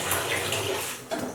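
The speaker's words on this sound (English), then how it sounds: "I put that fresh water right in here." Fresh water poured into a beaded lizard's enclosure, a steady close splashing pour filling the space for a moment, bright and continuous with a brief splash change near the end.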